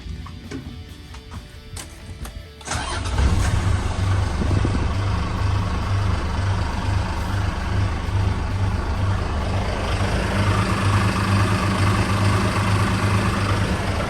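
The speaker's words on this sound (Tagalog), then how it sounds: "Pakinggan po natin ang makina. Start natin." After a few seconds of quiet clicking, the 6D14 diesel engine of a 1990 Fuso Fighter FK415E truck-mounted crane cranks and catches, then settles into a steady, loud, rumbling idle.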